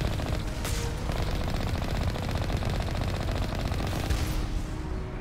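Turrets fire rapidly at a Mako vehicle in Mass Effect 1, producing dense, continuous bursts of automatic gunfire with sharper impacts near the start and end, loud and close throughout.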